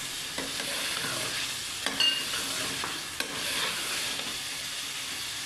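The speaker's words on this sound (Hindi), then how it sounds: "यहाँ पे मुझे भूनते हुए तकरीबन 6 से 7 मिनट हो चुके हैं इस मसाले को" Masala sizzles in a pan while being stirred for a shorba with potatoes and eggs, a steady frying hiss broken by occasional scraping stirs, close and continuous without talk.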